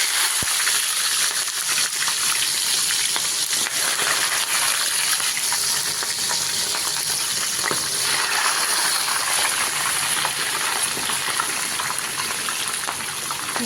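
Chicken sizzling and frying in hot oil for a stew-style rice dish, a steady loud crackle and hiss that continues without a break.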